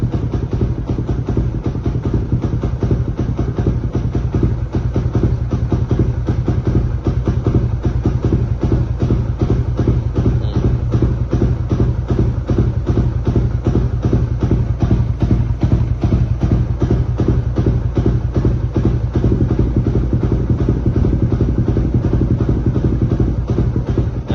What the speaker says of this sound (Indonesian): Kalian bisa dengarkan suara mesinnya nih.